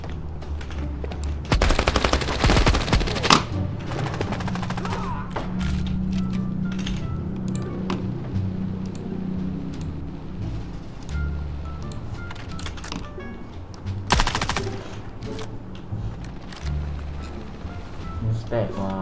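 Submachine gun bursts from an MP in Call of Duty Mobile, with rapid loud volleys near the start and again mid-clip over a steady game soundscape, with chatter from players in between.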